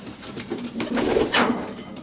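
Homing pigeon cooing softly in a loft, low throaty coos repeating through the two seconds at close range with faint background rustle.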